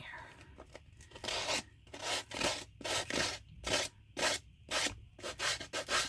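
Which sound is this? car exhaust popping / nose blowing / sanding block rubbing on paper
sanding block rubbing on paper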